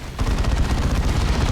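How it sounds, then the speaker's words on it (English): Rapid sustained fire from a Space Marine Dreadnought's assault cannon in Dawn of War 2, a dense, loud, continuous rattle of shots with deep booming low end, starting abruptly after a brief quiet moment. "And there's the assault cannon barrage"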